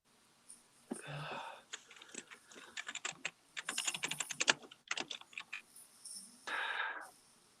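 A computer keyboard clatters in quick irregular bursts of keystrokes, close and fairly quiet, broken by a few breathy sniffs and wheezes between the bursts.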